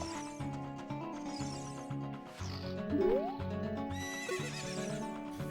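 A horse in Zelda: Ocarina of Time gives a few loud whinnies over steady galloping hoofbeats, with a game music backing underneath.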